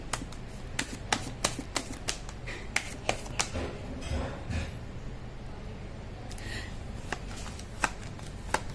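Indian tarot cards are shuffled by hand, a run of crisp repeated riffling snaps and soft card slides at close range with no talking.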